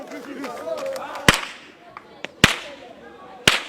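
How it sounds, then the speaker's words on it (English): Three sharp, loud cracks of an Ukpasha whip, a specially designed whip that sounds like gunshots, ring out about a second apart over a lively background of voices and commotion. "a specially designed whip which produces a gunshot-like sound that sends the children into frenzy."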